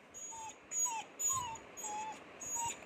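Puppy whimpering in short high-pitched whines, roughly five close cries in a row, each brief and thin with quiet gaps between them and no talking.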